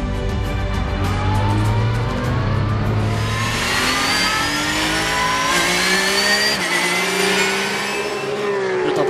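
A pack of race cars accelerating off the start at the Val de Vienne circuit, with engines loud and close and revving through rising gears as they sweep past, all blending into one continuous roar.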